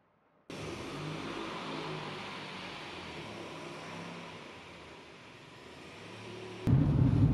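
A 1988 Volvo 740 on a test drive, rough-running car engine and road rumble holding steady and fairly loud throughout, with no voices and a sharp louder burst right at the end.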